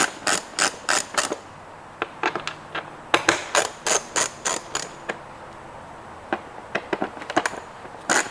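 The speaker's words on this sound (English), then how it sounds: "So using your 3mm Allen tool," A 3mm Allen tool ratchets out the windscreen bolts on a 2013 Honda CBR600RR motorcycle, with close, crisp clicking in quick bursts and short pauses between turns.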